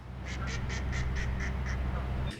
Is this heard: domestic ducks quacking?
yes